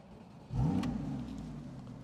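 A Porsche Boxster GTS engine fires up and revs hard, the roar climbing sharply and then settling into a steady, throaty rumble nearby.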